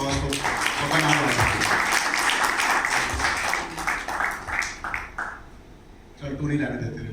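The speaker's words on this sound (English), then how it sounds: "Can we guys have a big round of applause for Kanal?" An audience applauds at an event, with clapping swelling for a few seconds and then fading out as voices and talk take over near the end.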